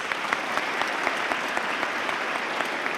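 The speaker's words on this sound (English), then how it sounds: "Could please get a round of applause for our guest?" An audience at a school Veterans' Day assembly applauds a guest: a continuous, even patter of many hands clapping at moderate volume for about three seconds, with no talking over it.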